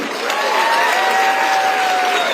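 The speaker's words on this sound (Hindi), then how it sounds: "एक बार सभी मिलकर जोरदार तालियां से।" Audience at a Chief Minister's public event in Shimla claps steadily, a broad continuous wash of applause with some crowd noise and a tonal whistle or feedback line running through it.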